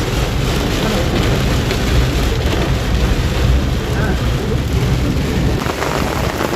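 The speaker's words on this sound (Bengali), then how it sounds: "গার্ডেন অফ কেভসে এখন আছি, অসম্ভব বৃষ্টি হচ্ছে।" Heavy downpour at the Garden of Caves in Cherrapunji, a dense steady roar of rain close by that fills the whole stretch without letup, loud and continuous.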